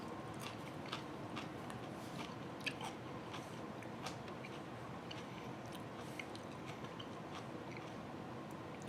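Close biting and chewing of a raw red sweet pepper, crisp wet crunches followed by steady mastication with moist squishing, continuous for several seconds with no talk.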